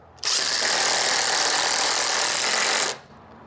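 Two Temu power tools drive bolts together in a speed test. They give one continuous loud, dense whir and buzz that starts abruptly, runs about three seconds and cuts off.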